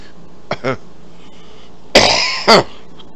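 A short cough, then a louder, harsher cough burst with a second cough right after, close up.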